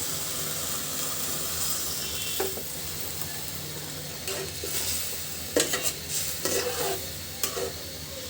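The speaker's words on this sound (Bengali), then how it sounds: "এখন দিয়ে দিচ্ছি এর ভিতরে কিছুটা ঝোল।" Broth is poured into a rui fish curry with potatoes and stirred in the pan. A soft, close simmering hiss is broken by occasional spoon and pot clinks toward the end, with no talking.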